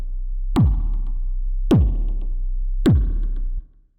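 Three evenly spaced synthesized kick drum hits, each a punchy thump whose pitch sweeps quickly downward, over a low steady hum that cuts off at the end. The sound is close and clear, with no speech.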